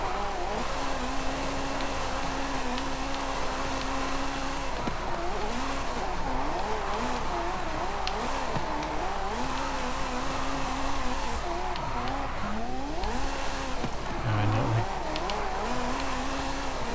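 A Ferrari F40 Competizione in Forza Horizon 5, tuned for drifting around a parking lot, its engine droning and wavering steadily with rising and falling revs and a tire squeal running throughout, loud and close with no one talking.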